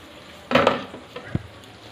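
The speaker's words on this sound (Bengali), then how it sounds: "এবার ঢাকনাটা তুলে নেব।" A metal lid lifted off a pot of homemade mango pickle cooking with sugar, a short clattering scrape followed by a light clink, with faint sizzling underneath.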